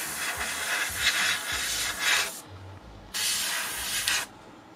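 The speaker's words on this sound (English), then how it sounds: "I'm not being overly cautious about spraying it on" Several hissing bursts from a spray paint can on miniature terrain, each lasting about a second, the last two longer and separated by short pauses, close up.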